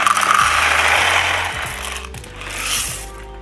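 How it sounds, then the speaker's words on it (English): Dry noodles are poured into a Crockpot Express cooker, a loud, close rattling cascade of hard pieces hitting the pot and one another, with no talk. "Now, finally, I put the noodles in."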